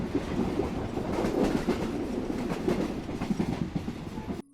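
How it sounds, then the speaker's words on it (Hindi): A Mumbai–Ahmedabad passenger train rolls steadily past, its wheels clattering over rail joints in a continuous rumbling clickety-clack that stays loud and close throughout. "मुंबई अहमदाबाद ट्रेन।"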